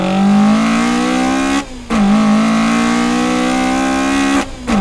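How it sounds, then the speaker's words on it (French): A Toyota AE86's 4A-GE engine revs hard in a loud, steady, high-pitched howl close by. Two brief drops in the sound break the held revs, then it climbs back up. "Un moteur tout autant mythique que la voiture en elle-même par son son rageur extrêmement"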